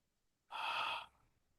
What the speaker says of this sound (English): Open the mouth. Exhale on an H sound.